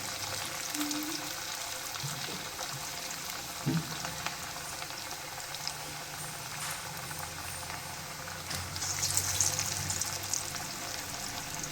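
Masala vadai frying slowly in oil over a low flame, a soft steady sizzle and gentle bubbling that stays quiet throughout, with faint kitchen clatter and a brief louder crackle near the end.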